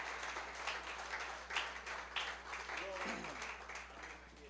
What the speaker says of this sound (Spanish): Debiera aplaudir más fuerte, por favor, en esta noche.